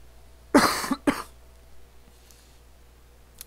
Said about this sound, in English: If the coughs are too loud, I might edit it out.